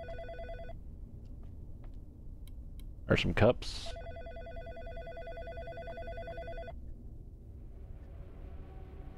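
Telephone ringing in the horror video game In Sound Mind, a steady electronic ring that sounds for most of the clip, with a brief burst of someone speaking in the middle.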